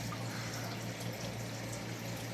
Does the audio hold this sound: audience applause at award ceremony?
no